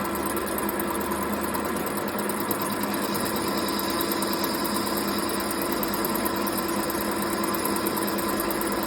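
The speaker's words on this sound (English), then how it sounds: "Bring my cutting tool so it just touch the work, and I'm going to take a light cut." A metal lathe turns while its cutting tool takes a light facing cut across the workpiece, heard as an even, continuous mechanical drone with a faint vibrating hum and no speech.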